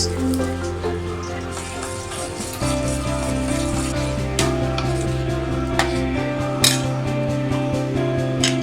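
A spoon stirs a pot of paruppu with jaggery syrup and a coconut-rice mix for a Tamil New Year dish, giving soft, continuous wet scraping and a few sharper clinks against the pot, set under steady background music.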